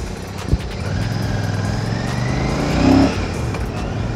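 A motorcycle engine pulls steadily under load while being ridden on a touring-style bike, a loud continuous drone with a brief swell of revs near the end and a short knock early on.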